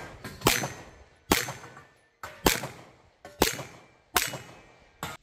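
A Ruger Max-9 pistol fires six sharp, cracking shots at irregular intervals of roughly a second, each with a brief ringing decay, fairly near, with no talking.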